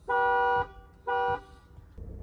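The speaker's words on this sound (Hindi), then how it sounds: "and this is the horn sound," Two loud, steady honks from a Tata Safari SUV horn, each held about half a second with a short gap between, sounding close, followed by low background noise.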